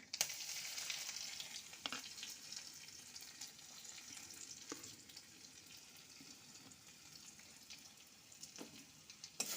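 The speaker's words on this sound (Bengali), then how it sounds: "আমি এখন শুকনো লঙ্কাটা ফাটিয়ে দিয়ে দেবো কালো জিরে, দেবো রসুন, থেতো করা রসুন" Dried red chilli, nigella seeds and crushed garlic fry in hot oil, a quiet continuous crackling hiss with a few faint ladle taps, heard from a short distance.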